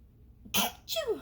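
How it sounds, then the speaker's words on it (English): A single sharp sneeze bursts out in two quick parts, close and fairly loud, after a moment of near silence. "There goes that sneeze."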